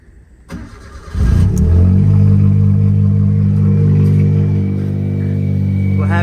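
A Suzuki Cappuccino's engine cranks and starts after an oil change, then settles into a loud, steady idle heard up close, with a faint click or two before it catches.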